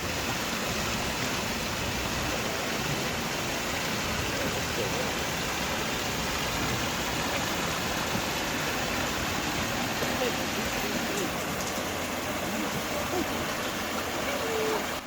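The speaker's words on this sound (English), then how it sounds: "Normally we never see this wheel turn, but she's turning today." The old water wheel of Cable Mill, a working mill in Cades Cove in the Great Smoky Mountains, turning under a dense, constant rush of falling water that drowns out other sounds.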